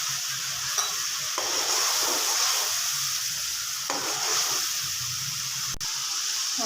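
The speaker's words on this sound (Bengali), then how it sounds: "তো এটা একটু কষাতে হবে" Frozen tomato and green chilies sizzle and fry steadily in a hot pan, a constant loud hiss with faint stirring scrapes and a few brief pauses, no voices over it.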